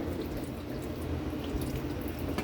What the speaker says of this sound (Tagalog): Siyempre, maglalagay na tayo ng tubig kaili.